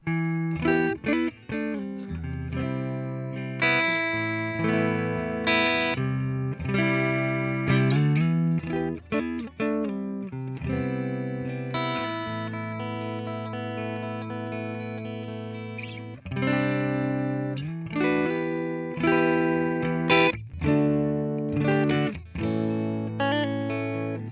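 A dry, overdriven electric guitar with a Tonerider Alnico IV humbucker plays chords and single-note phrases through a Victory amplifier, thick and mid-heavy with no reverb or room echo.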